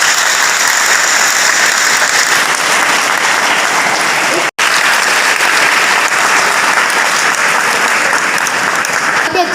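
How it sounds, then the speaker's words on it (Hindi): A large audience applauds loudly after a Hindi poem recital at a Hindi Diwas event, dense steady clapping that fills the space for several seconds with a brief cut midway. "एक बार और जोरदार तालियों से मैम का धन्यवाद कर"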